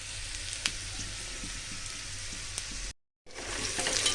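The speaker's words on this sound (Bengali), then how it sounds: "ভালো করে কিন্তু এই পেঁয়াজগুলো কিন্তু ভাজতে নিতেছি।" Onions frying in a pan give a steady, close hiss of sizzling oil with faint scattered pops, broken by a brief silent gap near the end.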